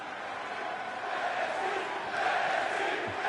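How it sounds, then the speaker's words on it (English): Wrestling crowd at an arena event in Virginia roaring in anticipation, a broad sustained din of cheers and shouts that swells toward the end. "This crowd here in Virginia is going crazy in"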